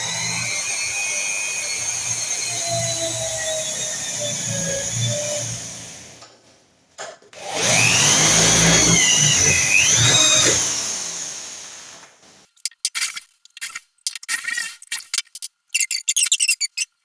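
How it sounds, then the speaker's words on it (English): A power drill bores through metal suspension pieces for a home-built tilting electric three-wheeler, whining in two sustained bursts with pitch changes, followed by scattered short clatters and handling noises. "All drilled, all drilled."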